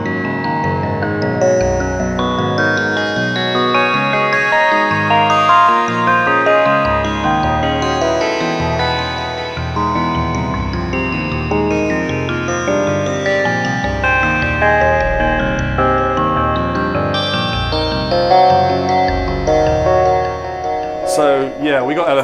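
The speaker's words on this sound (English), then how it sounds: "So the arpeggiator is playing a sequence, but the LFO is cycling through. So you listen to the polyrhythms going on." A Modal Electronics Cobalt8 virtual-analogue synth runs an arpeggiator sequence while an LFO cycles, producing shifting polyrhythms: a loud, continuous stream of rhythmic synth notes throughout.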